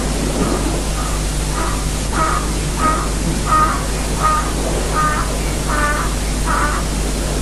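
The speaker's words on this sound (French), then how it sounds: "C'est la première fois que je vois un oiseau comme ça." A crow caws in a repeated series of short harsh calls, about ten in a row, steady and moderately loud over a constant low hum and broadband background noise.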